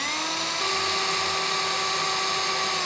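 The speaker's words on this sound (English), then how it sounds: "I'm now going to carefully drill through all 5 holes." A power drill bores through a kitchen wall cabinet's back rail, a steady high whine that holds close and loud throughout, its pitch stepping up slightly early on.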